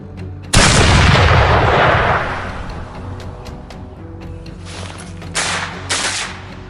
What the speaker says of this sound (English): I fired several rounds in quick succession.